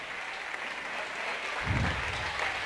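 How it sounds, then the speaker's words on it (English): A gym crowd at an alumni basketball game applauds an injured player leaving the court, a steady patter of clapping that swells louder partway through, with no voices above it. "So you see him coming out, getting a nice round of applause."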